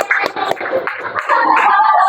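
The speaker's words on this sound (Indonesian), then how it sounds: "Oke, tepuk tangan." A classroom of students clapping together during an Indonesian language lesson: a brief, close burst of scattered hand claps that settles into a steady, dense wash of applause.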